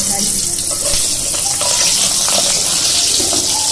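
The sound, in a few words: green chilies dropped into hot oil to fry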